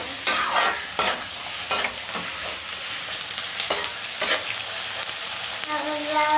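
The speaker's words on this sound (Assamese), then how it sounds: "মই পেষ্ট আদা নহৰু পেষ্ট আৰু বিলাহী পিঁয়াজখিনি ভাজি আছোঁ" Ginger-garlic paste, tomato and onion frying in hot oil, a constant close sizzle broken by repeated sharp scrapes and clacks of a stirring spoon against the pan.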